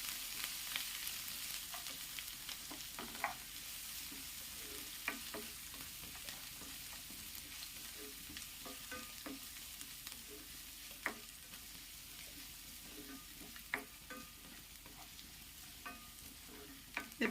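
Coconut, garlic and curry leaves frying on a low flame for a Chinese potato stir fry: a soft, steady sizzle with frequent small crackles and pops from stirring, quiet and close, with no voices.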